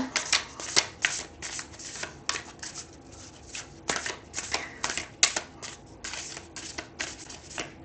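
Tarot cards shuffled by hand, a steady run of crisp riffling snaps and flutters for several seconds, fairly close and moderately loud, with no talking.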